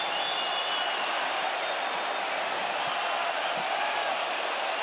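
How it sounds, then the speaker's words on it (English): Capacity arena crowd in Perth, Western Australia, rising in a standing ovation after a mixed martial arts title fight, sustained dense applause and crowd roar at full loudness throughout. "A standing ovation from the capacity crowd in Perth"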